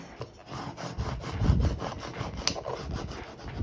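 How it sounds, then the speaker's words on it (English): A vinyl decal is rubbed down firmly onto a surface, with a run of quick, rhythmic scraping strokes close by, some harder than others. "give this a good rub, and hopefully we won't have any problems getting our text adhered"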